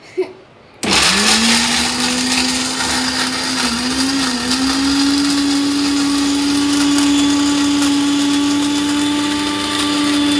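A mixer grinder blends peeled beetroot pieces for juice, starting abruptly after a brief quiet moment and then running as a loud, steady whirring motor hum with a slight dip midway, close and continuous with no talking.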